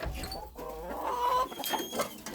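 Hens cluck close by in a short run of soft, broken calls, with a few higher notes rising near the end and no talk.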